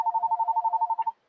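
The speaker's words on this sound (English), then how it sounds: "the phone's ringing" A telephone rings with a rapid, even electronic trill of about a dozen pulses that stops abruptly, loud and close with no voices.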